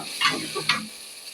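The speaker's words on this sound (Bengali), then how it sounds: "এই দেখেন আমার চালটা অনেক সুন্দর ভাজা হয়েছে" Raw rice dry-frying and being stirred in a pan, with a couple of soft scraping strokes over a faint, quiet sizzle, and no one speaking.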